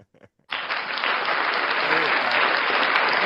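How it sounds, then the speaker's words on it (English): Canned applause from an applause button on a radio show fires after a short pause, a steady, dense wash of clapping and crowd noise that holds at full level to the end. "hit the applause button for yourself"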